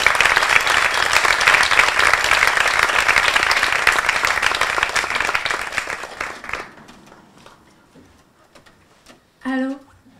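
Audience applause for a performer at a French song show, dense steady clapping for about six seconds that fades into scattered claps, followed by a brief voice near the end.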